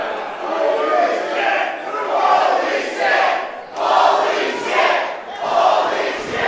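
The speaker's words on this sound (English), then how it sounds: "The crowd showing their appreciation." A wrestling event crowd roars in loud, rolling waves of cheering and shouting, swelling and dipping several times in a large room.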